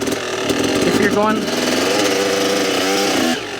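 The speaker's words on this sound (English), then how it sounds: "If you got the RPM high like that, the rear tire is more likely to break loose and start spinning" Motorcycle engine revving hard at high RPM on a hill climb, steady loud mechanical roar with rising and falling harmonic tones through most of the stretch, dropping off at the end.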